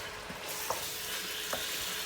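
Chicken stir fry with soy sauce and vinegar sizzling in a pan, a steady close frying hiss with a few soft stirring scrapes over a brief moment.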